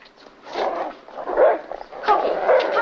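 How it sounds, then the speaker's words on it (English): A dog barks and yips in a 1950s black-and-white film scene, with a run of excited barks and whimpers of moderate loudness over a couple of seconds. "I haven't heard Corky bark in ages"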